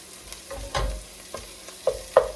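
Food fries in a pan over medium heat with frozen spinach and smoked herring, giving soft sizzling broken by a few brief stirring scrapes, quiet and near, with no talking.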